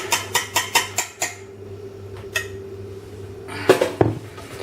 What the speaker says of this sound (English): So now I'm just going to remove the whisk.